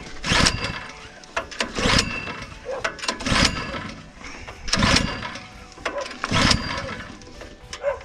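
A small engine, likely a farm machine's, is cranked repeatedly in short bursts, loud and close, with several pulls and roughly even pauses before it catches.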